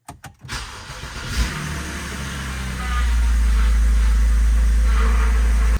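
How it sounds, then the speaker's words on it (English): A 2011 BMW 328i with an N52 engine cranks and catches, then settles into a loud, steady low rumble close by. "we can go ahead and start up the car"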